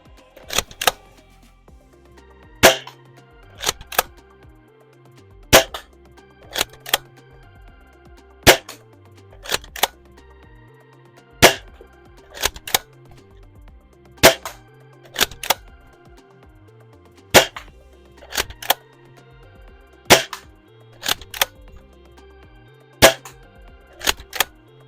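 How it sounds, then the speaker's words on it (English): Shots fire from an Aeon Pro X launcher at a shed target 100 feet away: sharp, loud cracking pops in irregular pairs and singles, about twenty in all, with quiet gaps between. "All right, 12 rounds loaded back up. We're gonna be shooting at the shed."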